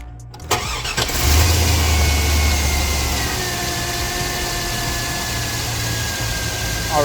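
The engine of a 2001 Chevrolet Silverado 1500 cranks briefly, fires up and settles into a steady, loud idle heard close by, with a faint whine running over the idle.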